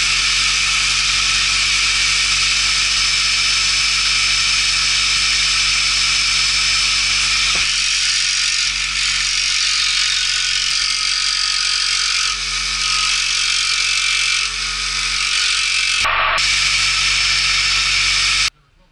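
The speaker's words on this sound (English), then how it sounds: "The hard part's gonna be cutting the tin because all I got is I got a jigsaw." A jigsaw cuts through thin tin sheet for a Losi 1.0 rock racer build, a loud, steady high-pitched buzzing whine that runs almost nonstop for about eighteen seconds with a brief break near the end.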